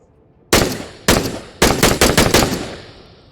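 A World War II Soviet pistol with eight-round capacity and no safety, fired in the Into the Radius VR game: six sharp, loud single shots, a lone one, another, then four in quicker succession, each with a short decaying tail.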